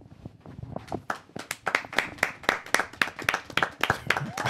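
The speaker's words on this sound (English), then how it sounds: "Can we get a clap?" A small group of people in a podcast studio clap, building from scattered taps into a quick, uneven run of close, crisp claps that lasts several seconds.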